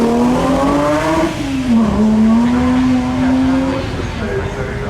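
A Porsche 992 GT3 exhaust under acceleration, with engine pitch climbing, dipping briefly and climbing again, close and loud against steady road noise.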